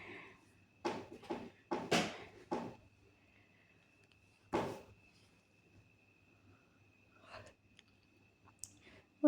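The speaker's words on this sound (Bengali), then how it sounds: "অতিরিক্ত কাপড় সুতাগুলো আমি কেটে ফেলতেছি" Scissors snipping excess fabric threads from an orna, a run of sharp close clicks in a quick cluster, then a few scattered single snips over a quiet background.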